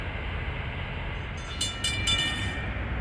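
Train passing in the Secaucus/Rutherford, New Jersey area, a steady rumbling roll of wheels and cars with bright metallic squeals or brief horn-like tones midway, moderately loud, without talk.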